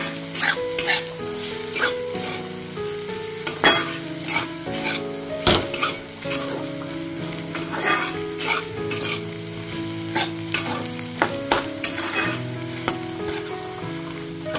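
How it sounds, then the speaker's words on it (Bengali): Spices with Kashmiri red chili powder and roasted ground spice mix sizzle steadily in a pan while being stirred for a muri ghonto fish-head dish, with a spoon scraping and clinking against the pan throughout and no talking. "দিয়ে সবকিছুকে আমি 3-4 মিনিট ধরে আমি কষিয়ে নেব ভালোভাবে।"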